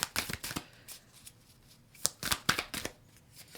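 A deck of affirmation cards is shuffled by hand in a quiet room, giving a series of close, crisp riffling bursts with short pauses between them.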